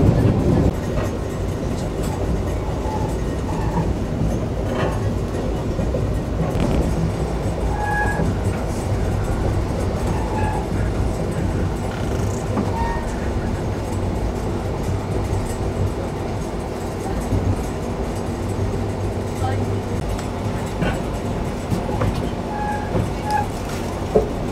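The Darjeeling Mail rolls into Sealdah station with a loud, continuous rumble of wheels and carriages, sparse clicks and clacks breaking through, and faint voices in the background.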